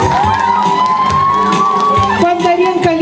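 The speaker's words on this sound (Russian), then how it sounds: "Аплодисменты!" A loud crowd cheers and shouts at a school arts festival for pupils in grades 4 to 6, with whoops and children's voices over a continuous roar and a sustained tone running through it.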